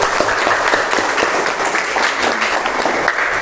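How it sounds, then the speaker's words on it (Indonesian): Applause for a student named Mas Nizar in an Indonesian classroom, a steady wash of many hands clapping close by with no talk over it. "Minta tolong tepuk tangannya untuk Mas Nizar."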